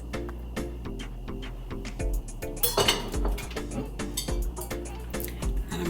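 Chopped pepper and onions getting stirred in a pot, with a busy run of metallic clinks and scrapes from a spoon against the pot that comes close and fairly loud, a brief louder clatter near the middle.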